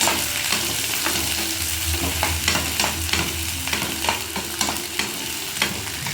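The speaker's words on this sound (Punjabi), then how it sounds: "ਤੇਲ ਗਰਮ ਹੋ ਗਿਆ ਆ ਤੇ ਪਿਆਜ਼ ਪਾਵਾਂਗੇ ਪਹਿਲਾਂ ਪਿਆਜ਼ ਪਾਤੇ ਆ" Onions frying in hot oil in a pan for vegetable noodles, a dense steady sizzle with occasional stirring scrapes, close and loud with no one speaking.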